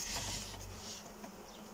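Honey bees buzz at an opened beehive in spring, a soft, continuous hum close by with no voices.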